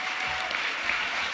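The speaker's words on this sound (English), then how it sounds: "You can clap." An audience at the Australian Human Rights Awards breaks into sustained applause, a dense, even wash of clapping throughout.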